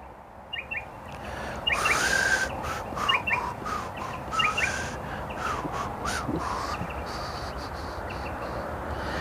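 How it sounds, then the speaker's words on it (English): Crows caw in short repeated bursts beside a river, at moderate distance, over a soft steady outdoor background with other bird chirps. "We've got the bird life."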